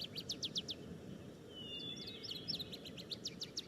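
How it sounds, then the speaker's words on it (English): Faint birds chirp in short repeated bursts in the video game Gabriel Knight 3, with a brief whistle in the middle, over a low steady rumble. "That's the birds."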